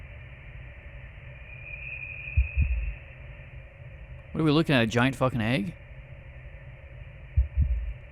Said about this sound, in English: A heartbeat?